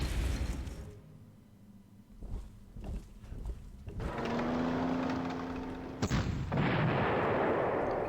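Artillery fire in the WWII strategy game Panzer Corps, a rumbling burst of booming blasts that swells into a sustained roar, with a second loud crashing impact near the end.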